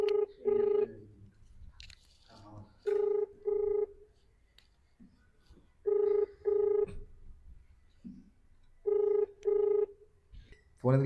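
A phone ringback tone on an unanswered call repeats in paired rings, each pair followed by a pause, loud and close. It runs about four cycles with faint background noise between them.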